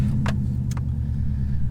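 Subaru Impreza boxer engine idling with a steady low rumble from inside the car, close and continuous, with a couple of brief clicks over it.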